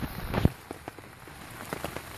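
Rain patters outdoors around a hammock beside a small camp stove, with irregular close drops tapping a surface over a soft background wash and one sharp louder tap early on.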